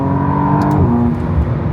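The V6 hybrid engine of a McLaren Artura Spider drones and revs steadily up close, with a shift in tone partway through and faint clicks above the engine note.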